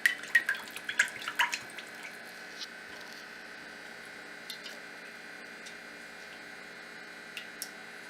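Cooking oil is poured into a pot for deep frying a bluefish, giving a few sharp splashing drips at the start. A faint, quiet trickle follows in a near-silent room.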